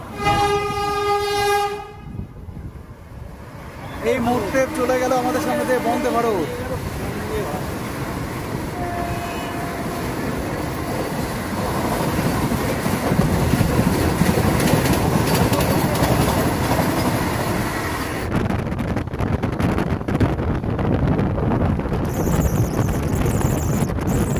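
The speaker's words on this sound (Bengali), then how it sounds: "ট্রেনটা কিন্তু এগারো মিনিট লেটে চলছে" A late-running local train on the Bardhaman–Deoghar line sounds a long tonal horn at the start, then rumbles and clatters steadily along the tracks with wind buffeting the microphone, growing louder and rougher toward the end.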